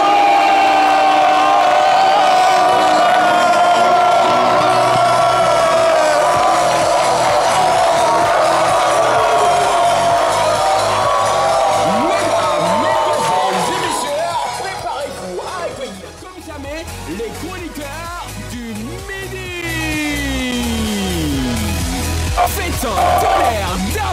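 An audience in a French TV studio cheers and whoops loudly and continuously, with shouting voices in the mix and a brief dip before the noise builds again.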